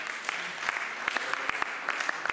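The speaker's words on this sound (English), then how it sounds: "Let's give God a big round of applause for that" A church congregation at an anniversary and birthday celebration applauds, a steady, moderately quiet wash of clapping with a few sharper individual claps standing out.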